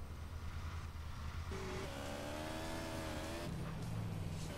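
Motorcycle engine in GTA San Andreas revving up in a rising, steady whine at close range, with pitch shifts as it accelerates and no talking.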